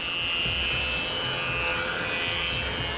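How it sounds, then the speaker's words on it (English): A wood jointer flattens one face of a board, giving a steady, close whirring rasp of cutters on wood that holds an even level throughout, with no voices. "So this is a jointer, but just gonna give me one flat side."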